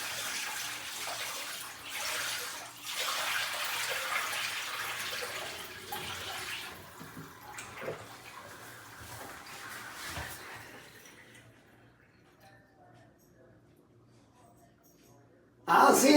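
Water rushes out of a newly installed bathtub, a steady gurgling drain flow that gradually fades and falls quiet before a sudden loud clunk at the end.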